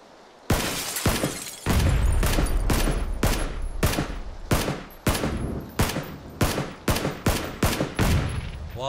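Gunfire in the battle royale game PUBG: a dense stream of loud, close shots in rapid bursts with sharp cracks and rattling impacts, continuing for several seconds without talk.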